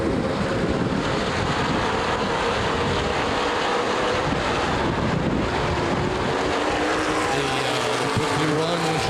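ARCA/CRA Super Series late model race cars roaring around the Anderson Speedway oval during a 125-lap race, a dense continuous engine drone with wind buffeting, heard from trackside with a faint commentary voice underneath.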